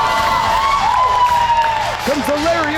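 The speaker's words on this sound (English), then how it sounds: "to the applause of the devoted faithful" A professional wrestling crowd cheers and applauds continuously at a live event, with voices rising above the steady roar and whoops.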